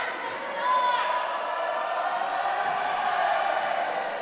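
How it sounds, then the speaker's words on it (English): Crowd at a men's roller derby world cup match doing a Mexican wave, a broad sustained roar of voices swelling slightly and rolling on continuously at a distance, filling the arena. "We have a Mexican wave happening in the crowd. You might be able to hear it through the mic."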